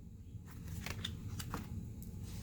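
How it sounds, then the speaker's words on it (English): Tarot cards are shuffled in quiet, soft bursts of riffling and sliding, faint and close, with a few brief crisp flicks and no talking. "let me do a few more shuffles"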